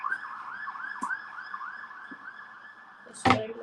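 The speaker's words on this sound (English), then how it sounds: "Let the ambulance pass." An ambulance siren passes outside, its repeated wailing yelp moderately distant and steady, with a couple of sharp clanks nearby and a loud clatter near the end.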